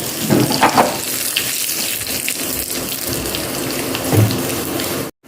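Steady crackling sizzle of tempering spices and a dried red chilli frying in hot oil, continuous and close, with a couple of louder spattering bursts before it cuts off.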